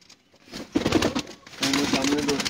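A pure Teddy female pigeon coos in short soft bursts amid rustling and handling noise, with a voice speaking over parts of it.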